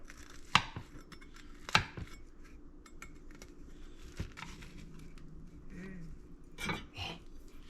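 A knife cutting through a baked French toast casserole in a dish, two sharp clinks of metal against the pan followed by softer scraping and crumbly cutting sounds, close and fairly quiet.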